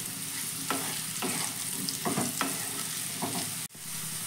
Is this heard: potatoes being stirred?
yes